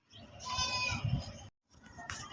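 Goats on a farm, including a newly bought one, bleat in a long wavering call followed by a short break and a second bleat, fairly close and clear with no talk over them.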